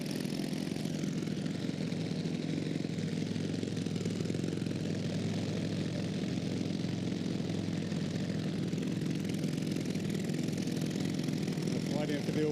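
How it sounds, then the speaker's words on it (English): A small supercharged 250cc Honda engine in a drag racer idles with a loud, steady, buzzy drone at a drag racing event. The sound holds constant throughout the stretch. "A lot of noise from this little Honda engine. Only 250 cc's of supercharged goodness."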